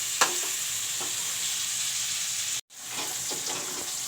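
Onions frying in a pan for a home-style chicken curry, a steady close sizzle and crackle with occasional stirring scrapes and a brief dropout midway.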